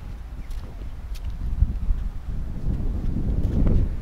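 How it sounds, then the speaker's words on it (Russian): Gusty wind rumbles and thumps directly against the microphone, swelling louder toward the end, with no talking. "Ветер дует прям в лицо"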